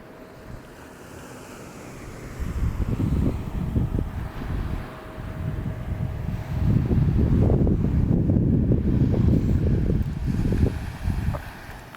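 Strong wind buffets a tent on a sandy night, a steady roaring gust with heavy low rumbling microphone buffeting that swells and surges irregularly, no voices present.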